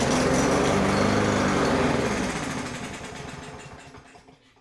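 A Briggs lawn mower engine fires up and runs with a loud, buzzing high-pitched drone, then gradually winds down and fades within a few seconds, heard alone.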